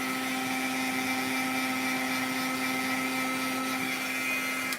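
Heat tool blowing steadily while melting embossing powder, a loud continuous whirring drone with a fixed pitch, running alone without a break.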